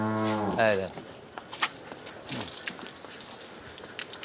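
A young dairy heifer on a dairy farm lets out one loud, close moo at the start, followed by quieter shuffling and faint movement noises.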